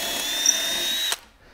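A power drill with a 2.5mm bit pre-drilling wood for a National beehive stand whines steadily at high speed for about a second, then stops abruptly, leaving near silence.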